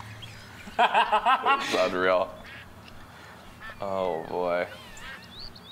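Quacking duck calls from a Duck Hunt game played with a duck call, a run of loud rapid quacks followed later by another burst, with people talking and reacting over them.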